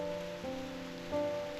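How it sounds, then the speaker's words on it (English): Rain falls steadily in a cutscene from the video game Reverse: 1999, a constant soft hiss under sustained musical tones, with no voices. "But why is it still raining?"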